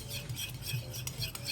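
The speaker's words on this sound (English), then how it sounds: "I'm gonna stir up our mixture." Stirring a shrimp pad thai mixture in a pan, a soft continuous scraping and rustling close by with faint metallic touches, steady throughout and no talking.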